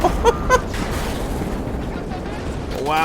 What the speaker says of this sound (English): Wow, those explosions are badass, man.